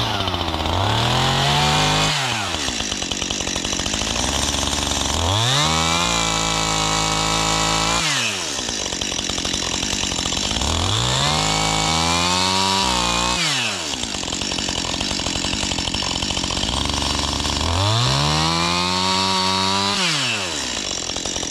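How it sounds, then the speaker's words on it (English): A chainsaw revs and bites into wood in the Alaskan bush in four long cutting passes, engine whining up and down between loud, close bursts. "Learning chainsaws still."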